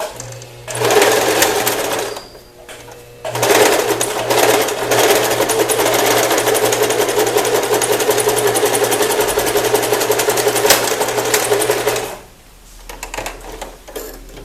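A sewing machine runs a long steady stitching burst of about nine seconds along an invisible zipper seam, after a short start and stop, loud and close with its rapid mechanical rattle and no speech over it.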